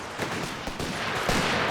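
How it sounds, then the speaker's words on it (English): Artillery fire in Company of Heroes 3, a dense, loud rumble of distant blasts and rapid gunfire rolling continuously in a battle. "No, that's artillery."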